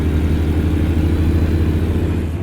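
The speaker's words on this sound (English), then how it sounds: "I'm going to have to get used to the sound of the engine and get used to the RPMs" Steady, loud diesel engine rumble of a Kenworth W900 truck in American Truck Simulator, idling low and even under light throttle while moving slowly up a street, with no voices over it.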